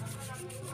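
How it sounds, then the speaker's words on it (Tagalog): Sandpaper rubs steadily over a motorcycle bushing during a home-service repair, a brief, quiet, continuous scraping with no talk over it. "So nililiha natin ito dahil pag hugutin natin ano yan ay baka"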